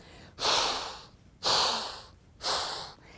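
A voice imitates a whooshing sound with three breathy, even rushes of air, each swelling and fading in a slow, regular rhythm.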